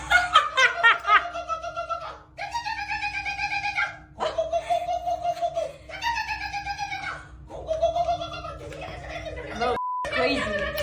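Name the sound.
woman imitating dog barking in a sauna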